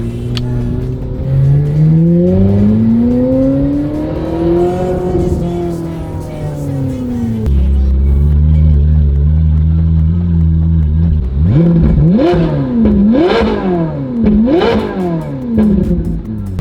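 A Honda NSX engine with a faulty Ferrari gearbox runs loudly throughout, rising and falling in pitch with revving, then settling into a steady idle before sharp revs near the end.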